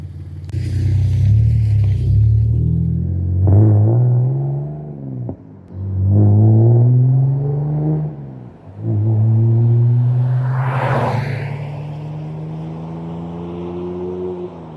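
A BMW E46 on BC Racing BR coilovers pulls away on a test drive, its engine loud and close, rising in pitch through several gears with brief dips at each shift and no talking.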